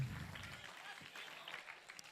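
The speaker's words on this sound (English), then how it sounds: "Let's give her a round of applause." A school audience applauds a student who has just won a prize in a classroom game at a middle school, a steady patter of clapping that holds for about two seconds and fades slightly toward the end, with no voices over it.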